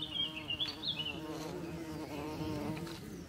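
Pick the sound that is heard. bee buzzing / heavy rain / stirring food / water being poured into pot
bee buzzing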